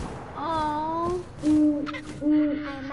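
An owl in the video game What Remains of Edith Finch hoots three times, a long wavering call followed by two shorter, lower, steady hoots, clear and close.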